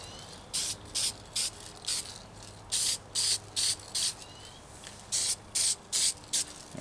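Short bursts of spray paint from an aerosol can coating a Homelite XL-500 chainsaw starter, about a dozen sharp hissing puffs in quick rhythmic groups, close and loud over faint background hum.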